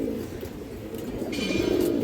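Green-necked pigeons coo softly in a short low burst, close and quiet, with no talking.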